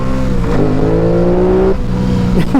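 Aprilia Tuono 660 motorcycle engine revs up loud and close, its tone climbing steadily, holding, then dropping away before a quick blip at the end.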